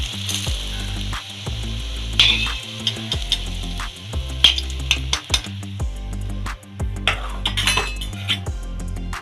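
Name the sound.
brinjal slices frying in oil, sizzling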